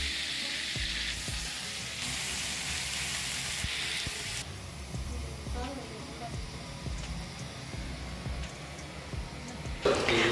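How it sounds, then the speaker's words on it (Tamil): Brinjal and broad bean poriyal sizzles and hisses steadily in a pan, the frying continuous and close, with occasional stirring knocks and someone speaking over it. "இங்கே கத்திரிக்காய் மொச்சக்காய் பொரியல் ஆகிட்டுருக்கு."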